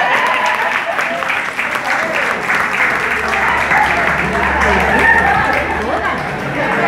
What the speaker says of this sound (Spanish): ¡El aplauso, chingado!